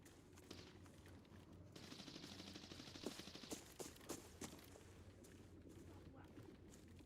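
Distant gunfire from another player in a tactical shooter game, a faint scattered crackle of bursts over low ambient rumble and footsteps, with a voice talking intermittently.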